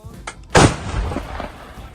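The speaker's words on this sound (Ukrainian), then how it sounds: "Постріл." A single heavy artillery shot booms out loudly, followed by a rumbling tail that fades over the next second, with a faint click just before.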